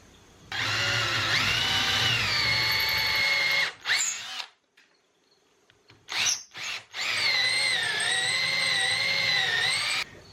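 A power drill with a 5/16-inch bit bores a hole in wood for a workshop shop ladder, giving a loud, steady close-up whine for about three seconds, then short stop-start bursts, then another long steady run.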